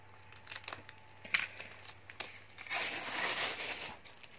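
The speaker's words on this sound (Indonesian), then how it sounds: "ini kainnya kita gunting aja ya" Scissors cut through the cloth wrapping on a 1980 Lorus alarm clock during an unboxing. Faint snips and crinkling rustles come in scattered bursts, then a longer crumpling rustle follows, with no talking.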